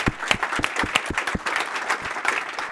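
A lunchtime conference audience applauds speaker Serge Beauchemin at a business school, sparse but lively clapping with individual hand claps standing out, close and fairly loud, no talking.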